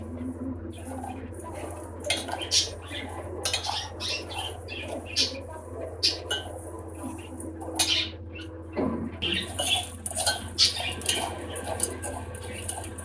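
A spoon stirs melting sugar in a pan, making irregular scrapes and light metallic clinks that come and go at moderate volume over a quiet background.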